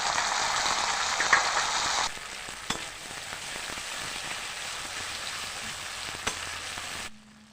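Crushed garlic with ground cumin, pepper and dried red chilli paste sizzling in hot oil for Bengali aloo dum, a steady bright frying hiss that drops to a softer crackle after two seconds, alone.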